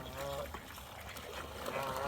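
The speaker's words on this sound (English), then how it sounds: "We've got pigeons, we've got geese, we've got swans." Geese, swans and pigeons crowd around someone scattering bird seed, a busy mix of honks, quacks and calls close by, overlapping continuously throughout.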